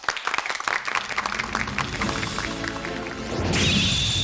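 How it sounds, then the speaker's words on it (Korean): A studio audience on a 2007 KBS storytelling show claps to welcome a guest, sharp scattered claps at first merging into steady applause, with a bright sustained tone cutting in near the end. "여러분 박수로 환영해 주십시오"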